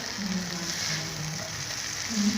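Cabbage tossed into vegetables frying in a pan for chicken vegetable macaroni gives a steady, moderate sizzle with soft stirring, close and continuous, no speech.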